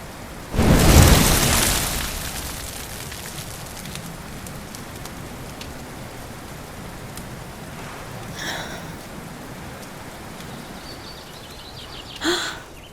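Rain falling in the video game Dragon Quest XI, a steady hissing patter throughout, opened by a loud thunder-like boom and later marked by a couple of brief sharper sounds.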